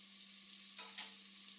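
Ingredients for seeraga samba ghee rice sauté in a pan until golden brown, giving a quiet, steady sizzle with a couple of brief stirring scrapes and no voices.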